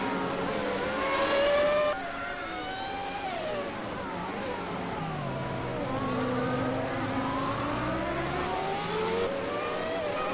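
Race cars in the Assetto Corsa racing game, on the Melbourne circuit, whine past one after another as they finish their laps. Sustained engine tones rise and fall with overlapping pitch sweeps, loud and close.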